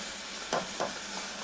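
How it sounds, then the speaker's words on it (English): A ladle stirs cream into Stilton soup in a pot, making two soft sloshing swirls over a steady low background hiss, close and quiet, with no talking. "I'm going to do that again with the ladle so you can see. Just mix it until it's well blended."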